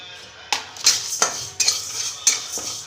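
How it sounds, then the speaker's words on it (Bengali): Mung and biuli dal dry-roasting in a pan without oil: sharp, rhythmic scraping and rattling strokes of a spatula against the pan, about two or three per second, close and distinct. "এই মুগ ডালটাকে একটু শুকনো খোলায় ভেজে নেব"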